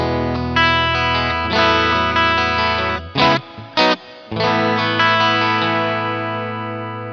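A Boss SY300 guitar synthesizer on a clean setting with effects, lush sustained chords with chorus shimmer, broken by two brief staccato stabs before a final chord rings and slowly fades.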